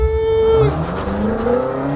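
A BMW M8 Competition engine revs hard and close, its pitch climbing, dipping and surging again in quick throttle blips, with a brief voiced exclamation over it.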